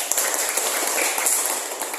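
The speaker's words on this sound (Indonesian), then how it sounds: "Tepuk tangan dulu ya." A short burst of steady applause, many hands clapping together in a dense, even patter, from students in a classroom lesson.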